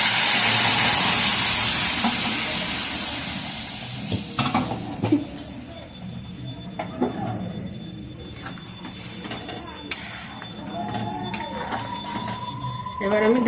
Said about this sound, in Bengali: এবার গরম জল দিয়ে দিলাম।